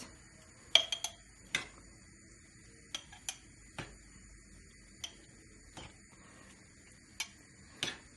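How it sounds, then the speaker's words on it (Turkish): Small glass jars clink and tick as winter sauce is spooned into them, a dozen or so sharp, faint glassy taps scattered irregularly in a quiet kitchen. "Şimdi kavanozların içerisine dolduruyorum."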